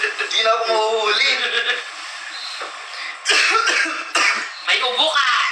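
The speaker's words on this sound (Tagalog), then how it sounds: "May ubo ka!" A person coughs in several harsh bursts, clearing the throat between them, while people talk around the coughing at close range.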